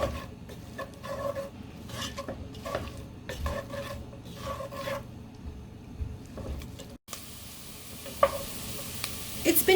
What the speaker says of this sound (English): we're going to saute it in the hot butter for 2 minutes